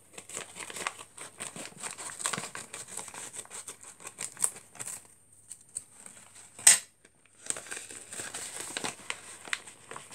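A mail package being opened from the back, with intermittent paper crinkling and rustling, a sharp tear or snap midway, and a short quiet gap before the handling resumes.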